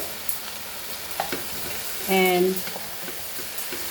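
Brinjal frying in tomato masala gives a steady close sizzle with scattered stirring scrapes, and a brief spoken word rises over it partway through.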